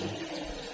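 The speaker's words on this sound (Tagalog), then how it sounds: "Lagyan ko lang ng tubig to" Water pouring onto washed keyboard parts, a short, soft, steady splashing trickle up close.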